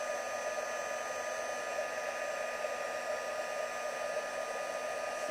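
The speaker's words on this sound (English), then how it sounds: "now we're just going to heat this with our heat tool." A heat tool blows hot air onto embossing powder on a stamped craft image, a steady, even whooshing hiss with a constant motor whine, close up and uninterrupted.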